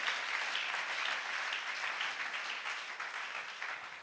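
A church service congregation applauds, a dense, even wash of clapping that holds steady throughout without pause.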